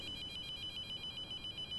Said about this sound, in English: Is the phone ringing? I think it is.